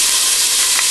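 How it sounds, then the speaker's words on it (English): Onions sizzling in hot olive oil in a pan, a loud continuous frying hiss, brief and steady with no break. "You can hear it sizzling nicely."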